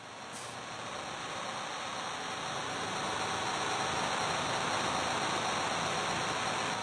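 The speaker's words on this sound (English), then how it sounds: "There's some white noise, but I think that's just because it's like bit crush sounds." Harsh, bit-crushed white noise like TV static hisses steadily for the whole stretch and slowly gets louder. No voices.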